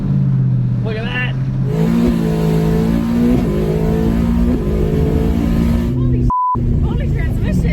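A 4WD Ford F150 truck accelerates hard during a race, its engine note climbing steadily in pitch. Excited voices talk over the roar, and a brief beep cuts in near the end.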